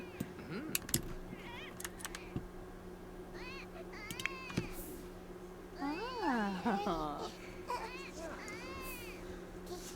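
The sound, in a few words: baby crying in a video game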